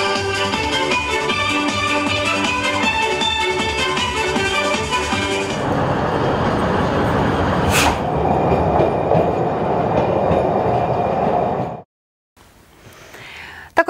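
A train on the Orenburg children's railway rumbles past close by, with loud continuous rolling noise and a rhythmic clatter that shifts midway, then cuts out abruptly.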